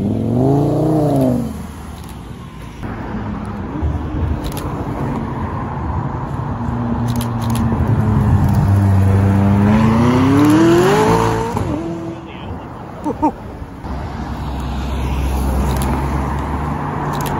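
A V10 supercar revs hard nearby, its loud engine note climbing in pitch through a rising sweep and then cutting off. A steadier motor rumble follows.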